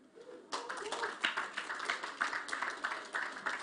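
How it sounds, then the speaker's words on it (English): An audience at a blockchain summit in Africa claps for a team placed third at an award announcement, with moderate, uneven applause after a brief quiet start and a few louder individual claps. "A round of applause for Team JPS."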